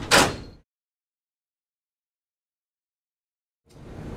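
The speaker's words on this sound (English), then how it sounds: "and close the door." Door of a RISO RZ220 duplicator printer being shut, a single short, loud knock-and-slide burst at the start, followed by silence and a faint rustle near the end.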